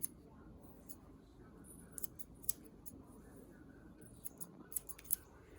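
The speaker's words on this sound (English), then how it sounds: "Pull it up with your comb and then use your thinning shears." Thinning shears snipping hair during an at-home clipper haircut: faint, sparse metallic snips and clicks, a few quick cuts clustered near the end over a quiet room background.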